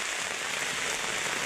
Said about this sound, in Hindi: देखुन यहाँ देखिए वर्षा बढ़ुचे